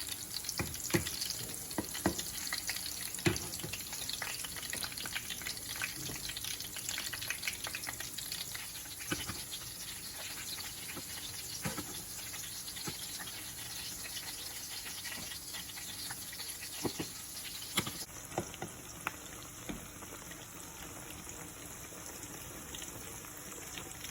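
Egg foo young frying in hot grease: a steady, busy sizzle and crackle with frequent small pops, continuous and fairly close throughout, no talking.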